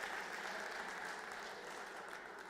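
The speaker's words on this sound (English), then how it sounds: "Let's applaud him." An audience at a public hearing in Thohoyandou town hall applauds in a steady wash of clapping that holds evenly for the whole span, moderately distant.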